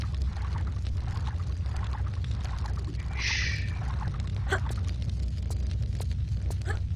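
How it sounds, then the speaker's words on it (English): Oppressive earthquake ambience from the video game Tomb Raider 3: a continuous deep rumble with scattered crackles and debris-like clicks, plus a brief hissing burst midway. "Listen to that oppressive earthquake ambience."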